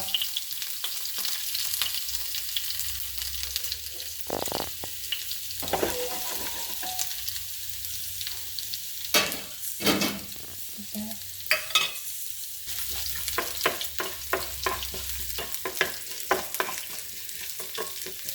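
Mustard seeds splutter and pop in hot coconut oil, then chopped onion fries with a steady sizzle, close by; sharp irregular crackles and stirring clatter come in bursts across the stretch, with no talking.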